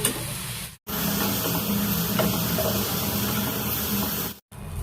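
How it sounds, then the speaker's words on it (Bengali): Mixed vegetables with salt, turmeric and green chillies sizzle steadily in hot oil in a pan, a dense continuous hiss that holds nearly unbroken for several seconds, with short breaks at the start and end. "এবার এটাকে ভাজা করব"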